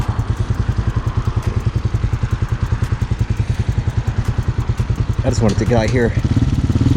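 A Hawk 250cc dual sport motorcycle idles with a steady, loud, even thumping close by, while someone speaks over it near the end.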